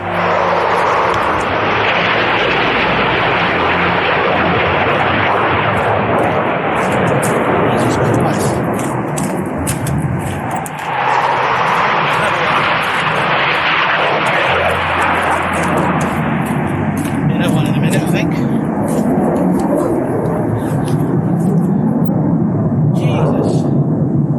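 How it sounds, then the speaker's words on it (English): A loud propeller plane engine roars continuously, swelling and fading as it passes close overhead near Raven Crag in the Lake District, with a person's voice faintly under the drone. "Oh, there's a plane coming now."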